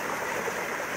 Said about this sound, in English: like this little swift water right here, this little current water